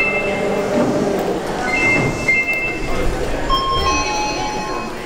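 Sapporo train rumbling along with rattling carriage noise and brief screeching metal tones, muffled voices faintly audible beneath the steady roar.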